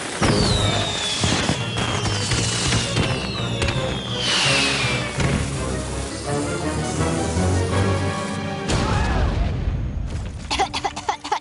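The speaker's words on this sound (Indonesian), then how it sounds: "Kenapa kembang api ajaib yang belum teruji yang kubeli di lorong belakang dari Trixie pada tengah malam tidak aman?" Magic fireworks going off in a cartoon, whistling rockets rising and popping with bursts and crackles, loud and busy, layered over an animated soundtrack with little speech.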